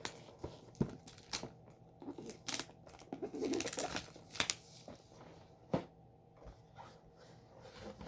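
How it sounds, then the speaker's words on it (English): Short, sharp snips and tearing scrapes from cutting through the plastic shrink-wrap seal on a board game box, several close cuts with quiet pauses between, no talking. "So this is sealed with plastic, so I'm gonna cut that."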